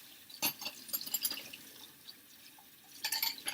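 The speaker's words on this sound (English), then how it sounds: "make sure that it all gets rinsed clean and there's no sudsy water coming" Tap water runs and splashes while brass instrument parts are rinsed free of suds in a sink, with bursts of spatter and dripping at the start and again near the end, and a quieter trickle in between.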